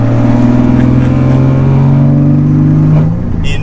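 Heavily modified Nissan Z sports car rolling slowly, its exhaust a loud, deep, steady drone heard from close inside, easing off slightly near the end.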